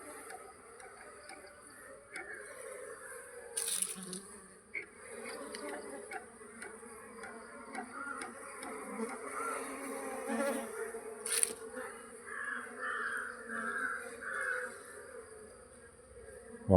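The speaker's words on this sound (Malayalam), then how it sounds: "ചെറിയ പുക കൊടുക്കുമ്പോൾ ഈ ഈച്ചകൾ അല്പം മാറുകയും അക്രമ സ്വഭാവം അല്പം കുറയുകയും ചെയ്യും" Honey bees swarm around an opened hive being calmed with smoke, a steady close buzzing drone with occasional louder passes of individual bees near the listener.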